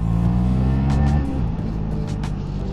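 KTM Duke 390 motorcycle with de-baffled Akrapovic exhaust revving close and loud, a deep buzzing engine note rising then easing off into a steady idle.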